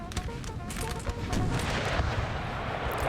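Artillery shells an infantry unit in Napoleon Total War, with dense volleys of gunfire and booming blasts in a continuous, chaotic battle din that swells louder halfway through.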